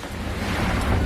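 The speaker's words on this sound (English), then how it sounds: "Ocean spray." Broadband rushing water and wind roar close by, a steady wash of ocean spray and surf noise hitting a boat at sea, with no voices.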